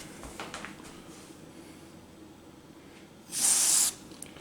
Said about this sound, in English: going to spray a little DeoxIT in there.